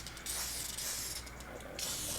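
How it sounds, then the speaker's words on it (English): Gun cleaner sprayed lightly inside a handgun and onto its guide rod, heard as hissing aerosol bursts, a short one and then longer steady ones, close and fairly quiet, with no talking. "Spray the guide rod. And I lightly spray the inside."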